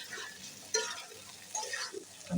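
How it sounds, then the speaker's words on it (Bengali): Already-fried potatoes are stirred through a spice mixture in a pan for a Bengali egg and potato curry, giving soft scraping and clinking stirs with a light sizzle, fairly close and quiet. "মশলার মধ্যে নেড়ে চেড়ে দিলেই হবে, কারণ আলুগুলি আমি ভেজে রেখেছি।"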